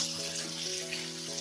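Chopped onion sizzles steadily in a pan at the start of a cuttlefish and potato stew, a soft, even frying hiss with faint background hum and no talking.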